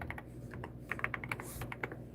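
Quick, uneven keystrokes on a computer keyboard, a close run of light clicks with a few louder taps, heard alone in a quiet room.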